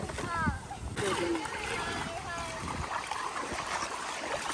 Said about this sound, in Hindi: तो पानी देखो